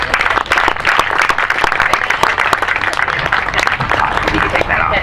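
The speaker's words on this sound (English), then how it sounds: "Let's give her a round of applause." Audience clapping at a golf teaching summit, a dense burst of applause that holds steady for several seconds, with some talk underneath.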